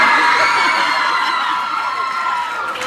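A fan convention crowd keeps cheering and whooping for an actress's evil queen line, a steady, loud wash of voices that slowly eases off.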